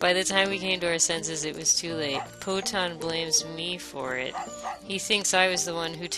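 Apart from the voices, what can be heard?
None of the usual background noises is heard.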